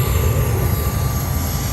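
Near Harry Reid airport in Las Vegas, an airplane passes with a loud, steady hissing roar that stays broad and constant, with no voices.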